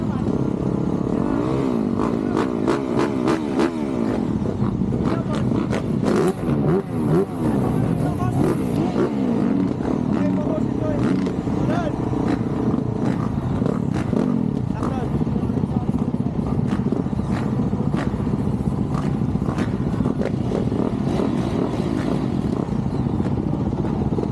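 Motorcycles in an expert-class dirt race in Abra, riders from Mindanao, Visayas and Northern Luzon, engines roaring and revving continuously throughout, dense overlapping drone of several bikes at close to mid range with clattering and a crowd or commentary murmur beneath.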